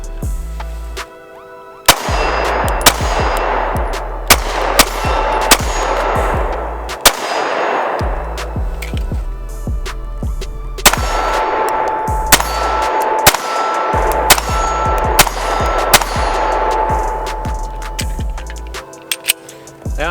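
Gunfire from a small Mossberg MC1sc subcompact pistol, delivered as a string of sharp, loud single shots at a steady, unhurried pace with brief pauses between groups, each crack ringing out and decaying over a constant low background hum.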